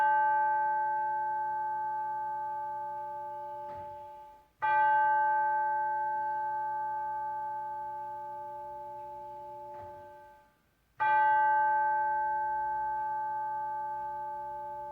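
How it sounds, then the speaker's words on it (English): A bell rung at a worship service, three clear struck strokes several seconds apart, each ringing out with a long, pure, slowly fading tone, heard alone in a quiet room. "now we'll center our hearts and minds with the ringing of the bell."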